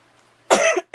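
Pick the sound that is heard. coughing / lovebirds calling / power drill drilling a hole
coughing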